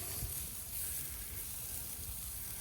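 Carne asada sizzling on a collapsible grill, a steady close hiss and crackle that runs without a break.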